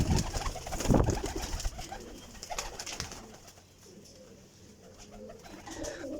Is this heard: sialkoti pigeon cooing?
yes